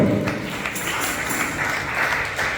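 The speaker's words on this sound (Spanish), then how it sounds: "denle un fuerte aplauso a Jesucristo" A church congregation at a sermon on prayer breaks into applause, a steady, diffuse wash of many hands clapping together in a hall, sustained and even for a couple of seconds.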